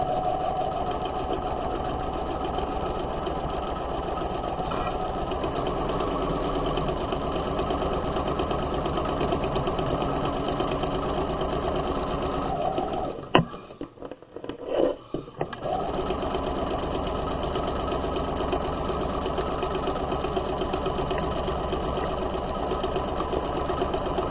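Close, loud sewing machine stitching up the side seam of a tote bag lining, a steady whirring run broken by a short stop of about two seconds midway before it resumes.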